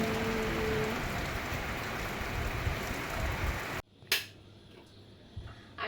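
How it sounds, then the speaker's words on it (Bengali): Heavy rain hisses steadily for several seconds, then cuts off abruptly to near quiet with a few small taps and knocks. "বাইরের অবস্থাটা দেখো বৃষ্টি দেখেছিস"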